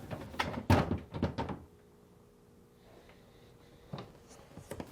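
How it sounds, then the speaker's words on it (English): A top freezer drawer on a Whirlpool refrigerator slides out and lifts free, giving a few close plastic thunks and scrapes at the start, then quiet before soft clicks and knocks near the end. "Now, remove the top drawer by sliding it out and lifting up."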